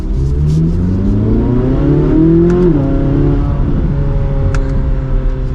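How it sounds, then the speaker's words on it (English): A 2024 Chevrolet Corvette C8 Z06 accelerating, its engine note climbing loudly through the revs with a quick upshift midway, then pulling again at a steady, strong level. "let's give it another acceleration here."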